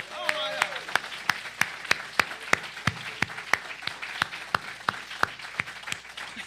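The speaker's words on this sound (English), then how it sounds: "Let's give them another round of applause." A church congregation gives a round of applause, with steady, evenly spaced claps and a faint crowd murmur under a voice speaking over them, near and moderately loud.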